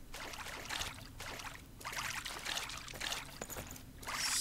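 Water is scooped and poured in the video game Craft the World, a busy run of splashing, trickling bursts at a fairly soft level, with no talking.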